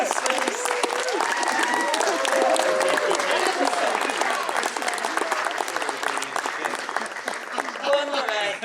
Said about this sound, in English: Give him a big round of applause for this.